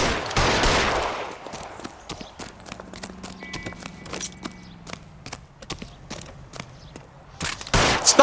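Gunfire in L.A. Noire, a rapid run of sharp cracking shots spread across several seconds, fairly loud, with bursts of noise at the start and end.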